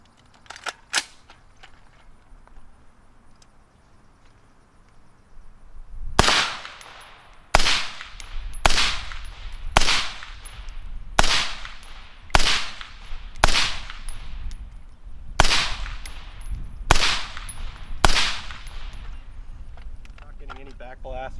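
A firearm fitted with an OSS suppressor is fired around eleven times at a steady pace, each muffled but sharp crack ringing out clearly, with a person talking quietly before the shots begin.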